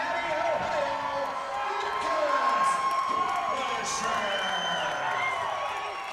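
A crowd cheering and shouting at a pro MMA fight in a 170-pound bout, loud and sustained throughout with whoops and children's shouts, and a commentator talking over it.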